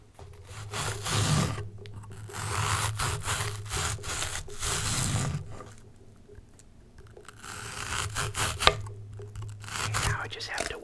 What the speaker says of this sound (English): Now I have to cut up some onion.